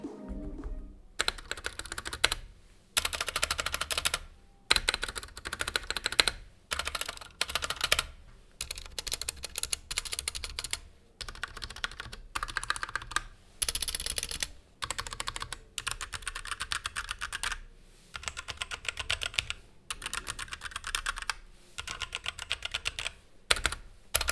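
Someone types on an Ant Esports MK1300 Mini 60% budget keyboard in fast, clacky bursts of keystrokes separated by brief pauses, close and alone with no talking.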